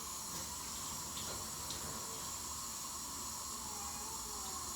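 Water runs steadily from a tap as it is drawn for a charcoal skin treatment, a constant close hiss and gurgle that continues unbroken and without speech.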